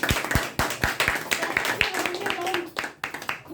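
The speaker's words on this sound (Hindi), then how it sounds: "एक बार जोरदार ताली बजा" Hand claps from a gathered audience at a DXN health-and-wellness testimonial meeting, sharp and fairly close, with voices talking over and around the clapping.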